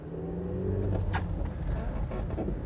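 Engine of a petrol Citroën Berlingo van while driving, a steady low rumble with a mild rise in revs and faint cabin noise, no voices.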